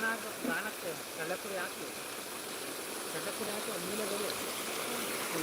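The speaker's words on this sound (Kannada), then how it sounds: "ಇದು ಹೊಳೆ ಅಂತಾರಲ್ಲ" A village stream flowing steadily as a faint, continuous watery rush in the background, with a voice speaking briefly near the start.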